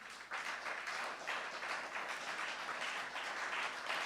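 A large audience applauds at a formal lecture honoring the President of Ireland, Michael D. Higgins: steady, dense clapping held at an even level throughout, with no talk over it.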